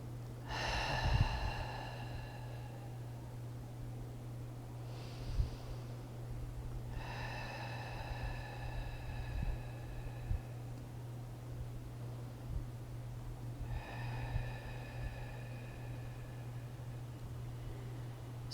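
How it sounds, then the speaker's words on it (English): Slow, deep breathing cycles, air drawn in through the nose and released through the mouth, three long breaths with soft pauses between them over a low steady hum. "Taking some deep cleansing breaths, inhaling through the nose, exhaling through the mouth."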